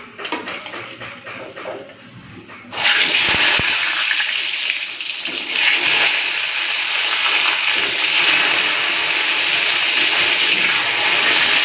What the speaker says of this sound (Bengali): এখন এই বেগুনগুলো ভেজে নেব।